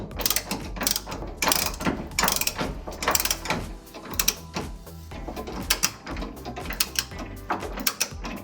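A ratchet wrench clicks as it turns a nut while a Ford Performance rear lowering kit is installed on a 2015-2020 Ford F150, quick rhythmic ratcheting strokes close by, repeated in short runs.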